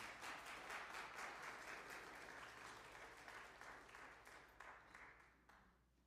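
Faint, thin applause from a small group, claps pattering unevenly and tapering off near the end.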